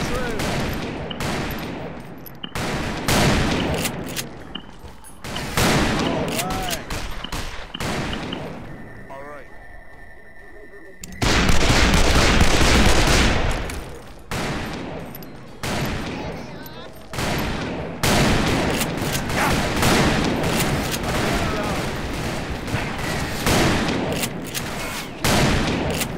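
Gunfire in Call of Juarez: Bound in Blood, with loud, dense bursts of rapid shots and heavy booms that run almost without pause, plus a brief quieter lull partway through.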